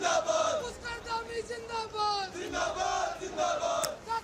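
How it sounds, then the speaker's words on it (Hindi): Crowd chanting slogans at CM Dhami's road show in Dehradun, rhythmic massed voices rising and falling in repeated calls, moderately distant and continuous throughout. "उनके नारे लगाती ये जो भीड़ है वो इस वक्त सुनाई देती है"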